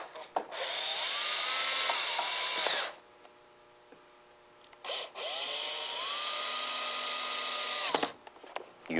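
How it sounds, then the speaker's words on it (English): A power drill drives supplied screws through VELUX metal skylight head flashing into the side frame, two long whirring runs that ramp up in pitch, separated by a short pause, close and loud. "Use the supplied screws to secure the head flashing piece to the side frame."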